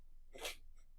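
A single sharp sneeze bursts out mid-room, a brief broadband spray of breath followed by a faint softer echo, with quiet background and no talk.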